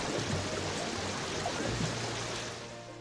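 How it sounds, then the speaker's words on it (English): Loud, steady rushing water effect from the Kingdom Hearts video game, a continuous stream or waterfall wash that runs evenly throughout with no voices over it. "Man, that water effect is kind of loud."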